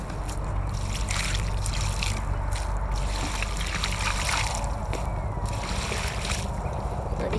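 Seedlings in a garden are watered, with a steady close splashing and trickling of water that runs through the whole stretch without any talking.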